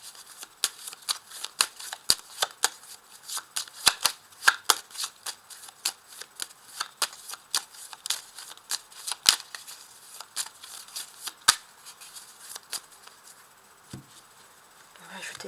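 A deck of tarot cards is shuffled by hand in a long run of rapid, crisp riffles and flutters, close and steady, easing off near the end. No one speaks.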